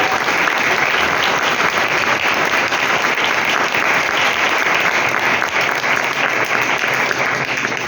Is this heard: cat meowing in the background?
no